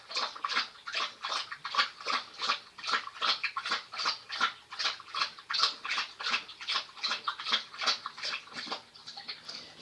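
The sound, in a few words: dog drinking water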